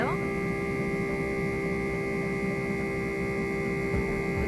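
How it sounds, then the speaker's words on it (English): An oil extraction pump draws fresh oil into a Yanmar 4JH4E marine diesel engine during an oil change, giving a steady, continuous motor hum with a constant drone that holds level and close throughout. "I put on the new filter here, and I am now sucking in the first gallon of oil"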